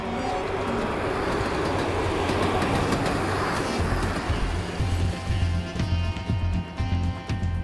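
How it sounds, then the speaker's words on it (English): Train rolling along rails through Croatia, heading north from the Adriatic coast toward the Velebit mountains: a steady, loud rumble with rhythmic clickety-clack of wheels over rail joints growing more distinct toward the end. "From Vis and the Adriatic coast, the train takes us further north."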